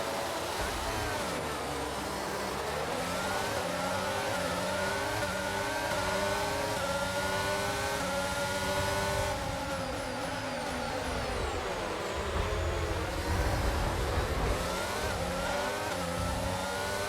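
Aston Martin Formula 1 car engine in the F1 22 racing game at the Bahrain Grand Prix, a loud continuous whine with rising and falling pitch through gear changes, up close.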